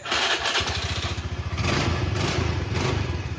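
A car engine cranks briefly and catches during a fuel pump pressure test, then runs at a rough, pulsing idle with a steady throb, loud and close.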